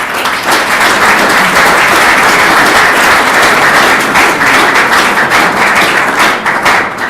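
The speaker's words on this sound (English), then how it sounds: "I think we should just give him a quick round of applause before we see his film." An audience at an evening film screening and discussion event breaks into sustained applause, a dense, steady wash of clapping that carries on at full strength throughout.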